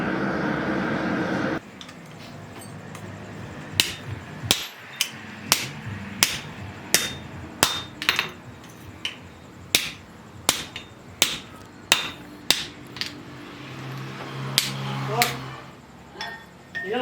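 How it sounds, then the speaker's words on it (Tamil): A blacksmith forges an axe, hammering hot iron to forge-weld it: a steady series of sharp metallic strikes, roughly one per second, ringing close and loud over background chatter and workshop noise. "கோடாலிக்குரிய குழச்சி அடித்து வெல்டிங் பண்ணி காட்ட போகிறார்"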